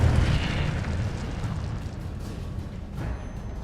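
Incendio fire spell cast in Hogwarts Legacy: a loud, whooshing burst of flame with a deep low rumble at the start, fading into a crackling roar, with a second softer flare near the end.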